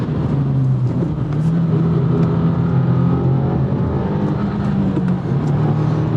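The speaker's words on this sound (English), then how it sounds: "And the engine is actually quite quiet." A 2024 Subaru WRX TR on a race track drones with a steady, loud engine note, holding a constant tone with slight shifts and no talk.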